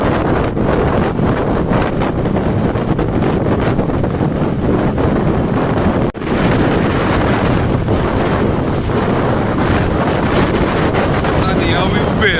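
Strong sea breeze at Ayia Napa, Cyprus, buffeting a microphone with constant loud roaring wind noise that barely lets up for the whole stretch, with a brief dip partway through.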